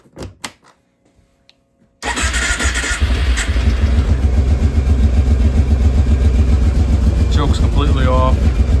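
The engine of a 2003 Kawasaki Prairie 650 ATV cranks and catches, then settles into a steady, close, loud running drone. A few faint clicks come first, and a voice speaks briefly near the end.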